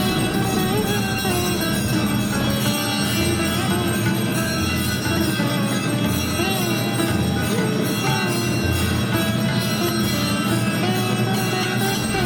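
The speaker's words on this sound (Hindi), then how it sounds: "अचानक से इतना आवाज़ आने लगा घंटियों का" Temple bells ring continuously at a shrine in Naimisharanya during the bhog offering to the deities, a dense, steady metallic clanging that fills the space at a loud, unbroken level with no pauses.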